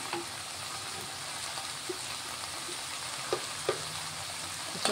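Cauliflower pieces fry in a covered pan with a steady, fairly quiet sizzle, and a few soft clicks and taps sound over it. No one speaks.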